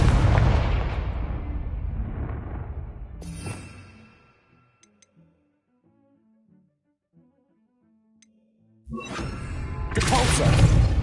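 A loud, booming Confringo spell blast in the video game Hogwarts Legacy, with a crackling, shattering burst that fades to near silence before another loud explosive burst erupts.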